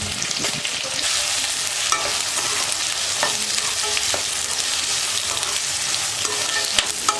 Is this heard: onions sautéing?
yes